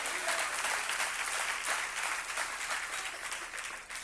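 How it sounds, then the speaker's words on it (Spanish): Church congregation applauding, a steady wash of many hands clapping that stays even and fairly loud, then eases slightly toward the end. "Dale un aplauso a Dios si lo recibes."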